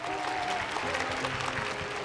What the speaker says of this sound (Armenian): Եկեք առաջին ծափահարությունները հնչեցնենք հենց ձեզ համար, որ եկել եք